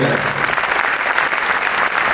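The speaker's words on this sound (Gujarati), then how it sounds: "એકવાર જોરદાર તાળીઓથી આપણે" An audience at a bank-related talk in Rajkot breaks into sustained, dense applause welcoming Dr. Vishal Bhadani, a steady wash of clapping with voices faintly underneath.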